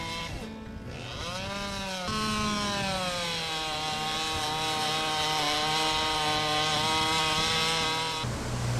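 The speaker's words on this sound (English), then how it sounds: "The interior cavity is then created by being repeatedly cross-cut with the chainsaw." A chainsaw cross-cuts a tree limb to carve out a habitat hollow. The engine whines steadily at high revs and lugs down briefly as the chain bites, loud and close with no talk.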